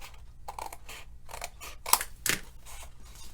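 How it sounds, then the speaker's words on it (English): Scissors snipping through cardstock from a score line, a series of short crisp cuts in an irregular rhythm, close and moderately loud with no talking. "So I'm cutting from the score line."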